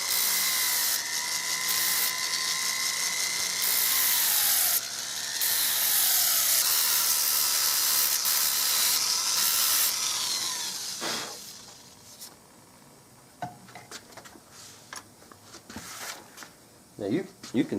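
A Foredom rotary tool carves out the inside of a wooden Mauser custom rifle stock, a loud continuous whining grind that cuts off partway through and leaves quiet handling noises and scattered clicks.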